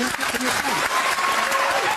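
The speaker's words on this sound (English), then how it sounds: "Look how everybody's clapping." Audience applause during a heated debate in Britain, a brief, dense patter of clapping mixed with overlapping raised voices talking over it.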